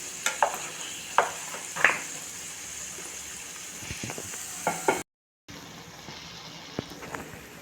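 Wheat flour and egg batter cooks on a pan over low heat, giving a steady faint sizzle with a few sharp clicks and scrapes of turning, then a short break before the quiet hiss resumes.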